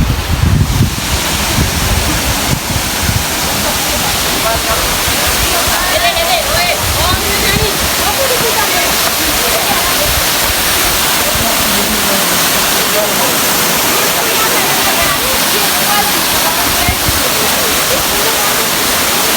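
A tall waterfall in Azad Kashmir near Muzaffarabad, running at reduced flow, gives a loud, unbroken roar of rushing water that holds steady throughout, with wind buffeting the microphone.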